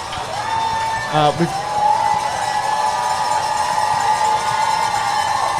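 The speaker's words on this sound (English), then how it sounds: "All right, we hear some cheers." A crowd cheers and whoops at a marathon trials watch party, steady and moderately distant, with a brief voice over it.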